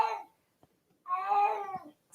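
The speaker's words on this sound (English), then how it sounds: "so that's a little bit meowing." A house cat meows twice, a short call followed by a longer drawn-out one that sounds somewhat like a crying baby, close and clear in a quiet room.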